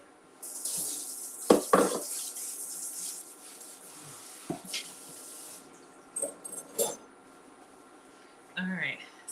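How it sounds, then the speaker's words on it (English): A bowl is rinsed under a running kitchen tap while a chocolate cake is being made. There is a short gush of water, then intermittent rubbing and clinking at the sink, with faint voice-like sound nearby. "Let me just rinse this out."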